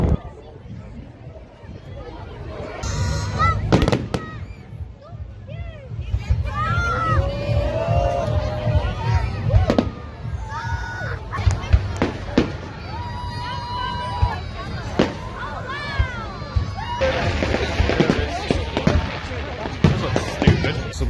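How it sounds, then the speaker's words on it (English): Bonfire night fireworks burst in sharp bangs and crackles scattered through the scene, some near and some distant, amid crowd babble and excited voices of people talking throughout. "Wow, they're such pretty fireworks."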